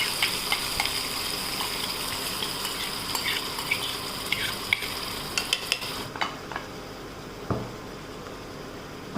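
Onion frying in a pan for beetroot kofta gravy, a continuous bright hiss of sizzling oil with light stirring scrapes, then quieter after a sudden drop near the end, with a few spoon knocks.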